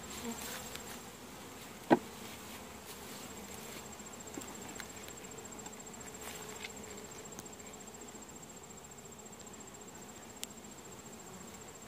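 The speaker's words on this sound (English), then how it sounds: "This is where all the bees are." Honey bees buzz steadily around open hive boxes, a continuous close insect drone with a faint sharp tap partway through and no talking.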